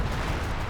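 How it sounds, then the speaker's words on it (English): Panzer artillery fire in the World War II strategy game Company of Heroes 2: a short, loud, dense rumbling blast that fills the moment with heavy low boom and no clear voice. "It was Panzer artillery"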